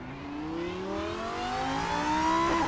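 A Lanzo V10 race car in Assetto Corsa accelerates hard, its engine note climbing steadily in pitch through a long pull, loud and close with no other sounds.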